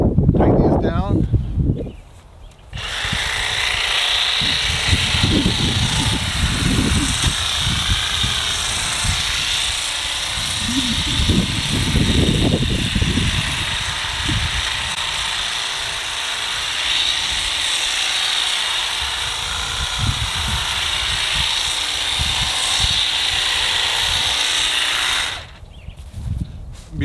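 A Milwaukee M18 articulating hedge trimmer on an extension whirs steadily near the mic while trimming an arborvitae. It starts and stops abruptly, and a voice breaks in at times.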